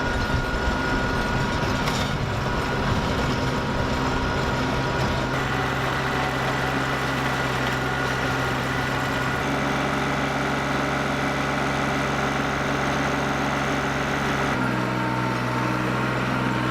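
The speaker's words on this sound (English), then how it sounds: "buy my own tiller, perfect for tilling up the space between the grapevines" A small garden tiller engine runs continuously between vineyard grapevines, a loud, steady droning rumble with shifting tone as the load changes, close by and with no talk.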